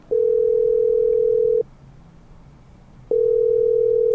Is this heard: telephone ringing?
yes